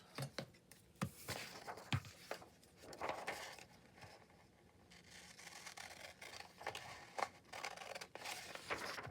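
Scissors snipping paper for a craft project, several quiet, close cuts and rustles spread irregularly across the stretch, with soft handling noise between them and no talking.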